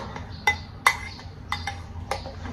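Egg paratha batter being mixed in a bowl, with a spoon knocking and clinking against the sides in a few distinct taps over soft background scraping, close and moderately quiet.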